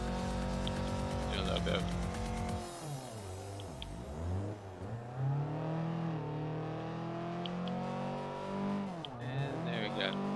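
A car drifts through an e-brake slide, its engine revving and swooping up and down in pitch with scraping tire noise, loud and close, while someone talks over it.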